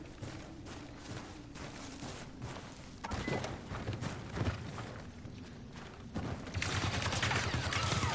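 Gunfire in a Star Wars Battlefront match crackles in dense, continuous bursts over a rumbling battlefield, growing louder and harsher toward the end.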